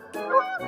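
A single goose lets out one short, nasal honk close by, sitting alone in an otherwise quiet setting.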